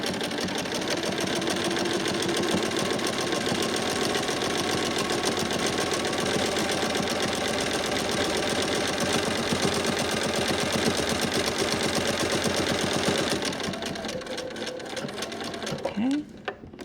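A sewing machine stitches mesh to binding, a fast steady mechanical chatter running continuously and close for over ten seconds, then slowing and stopping near the end with a few faint handling sounds.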